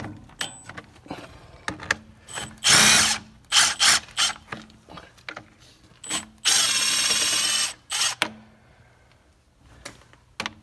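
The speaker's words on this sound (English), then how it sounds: "we'll just take these bolts loose here" Bolts on a semi truck's battery are being loosened during a battery change. Short bursts of a power tool whir alternate with quick ratcheting clicks and metallic handling, and one longer sustained burst runs near the middle.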